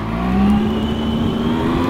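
A motorbike engine runs steady and loud up close, with a sustained droning tone that rises slightly in pitch as it pulls along.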